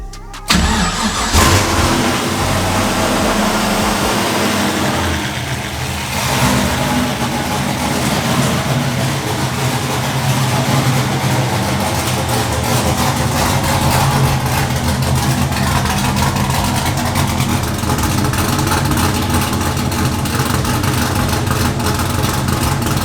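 An LS V8 swapped into a Mazda RX8 with a hi-rise intake and new camshaft cranks and fires, then settles into a loud, steady, lumpy idle that continues unbroken, close up with no talk.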